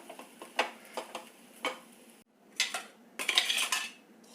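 Cooked rice being stirred with salt in a metal pot, with a run of light spoon clinks and scrapes, then a short pause and a busier burst of scraping, close and fairly quiet.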